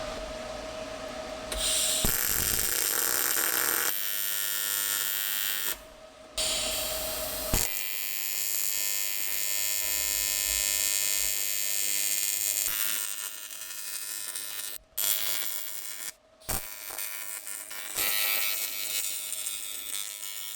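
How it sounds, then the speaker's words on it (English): Steady electric buzz with a faint pulse from welding a new filler neck onto the radiator of a 2012 Suzuki GSX-R 1000 motorcycle, running continuously for about twenty seconds with a few brief pauses, loud and close with no talk. "I'm going to start welding on the radiator now."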